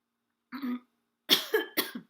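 A brief dry cough followed by a quick pair of harsher coughs, close up against silence.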